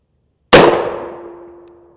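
A single loud gunshot hits a Level III+ steel armor plate with a sharp bang and a clear metallic ring that fades over about a second and a half. No one speaks.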